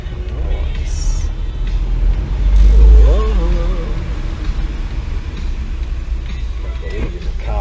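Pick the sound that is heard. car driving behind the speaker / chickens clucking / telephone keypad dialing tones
car driving behind the speaker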